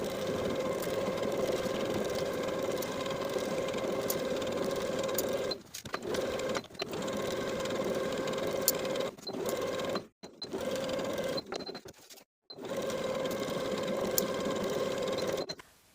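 A sewing machine stitches a linen shift dress side seam from the facing around the pocket to the hem, a steady close mechanical whir running in several long bursts with brief pauses between them.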